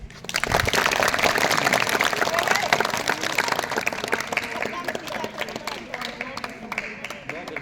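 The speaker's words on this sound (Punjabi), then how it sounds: "ਤੁਸੀਂ ਇਹ ਖੁੱਲ ਕੇ ਤਾੜੀ ਵਜਾਓ" Loud, sustained applause from an audience at a magic show, dense clapping at close range that holds steady for several seconds before thinning out slightly toward the end.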